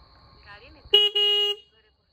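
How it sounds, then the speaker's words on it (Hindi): A car horn sounds nearby during a video shoot, a quick toot followed by a longer sustained honk, loud and clear after some background talk. "हरन मारुची"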